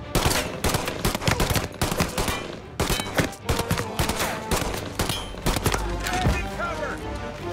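Rapid bursts of gunfire and dense volleys of shots crack through a shootout in the video game Mafia Definitive Edition, loud and close, with short pauses between clusters.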